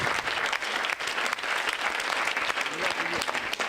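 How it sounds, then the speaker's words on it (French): An audience applauds at an evening science-fiction film event in France, a dense, steady wash of clapping that fills the room throughout, with faint voices mixed in. "nous avons notre parrain qu'on peut applaudir, Roland Lehoucq."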